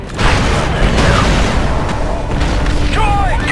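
A primed explosive charge detonating in the Star Wars Republic Commando game: a loud, sustained booming blast that fills the clip, with rumbling low end and some faint voice chatter underneath.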